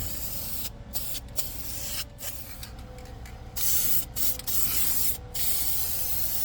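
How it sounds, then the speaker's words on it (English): Black spray paint hisses from a can onto metal in close, steady bursts with short pauses between passes. "And I'll just back it up with some black spray paint."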